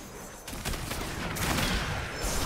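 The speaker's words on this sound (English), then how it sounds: "you're spamming arcane explosions" An arcane mage in World of Warcraft: Shadowlands casts Arcane Explosion again and again, making a dense run of crackling, bursting blasts that builds and stays loud.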